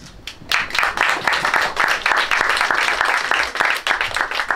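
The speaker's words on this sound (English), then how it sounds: "Let's give those teachers a huge round of applause." Applause for teachers at a 2022 graduation ceremony, a dense, sustained round of clapping from an audience, loud and continuous for several seconds with no speech over it.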